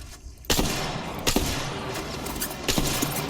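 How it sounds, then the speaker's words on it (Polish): Gunfire in Apex Legends, with sharp loud shots and bursts recurring at irregular intervals over a constant busy game background. "Coś we mnie strzela tam od dołu."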